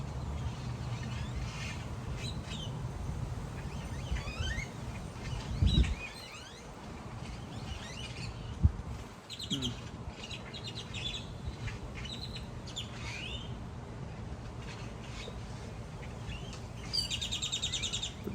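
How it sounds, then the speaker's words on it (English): Many birds chirp and call busily outdoors before rain, some sharp and close, others distant, over low background rumble with a couple of brief thumps. "Birds are going nuts."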